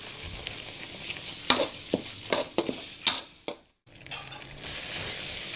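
Lemongrass, bay leaves and lime leaves sauté with spice paste for a yellow-pickled tilapia dish, a close hiss broken by sharp spatula scrapes and knocks, a short gap of silence, then sizzling again.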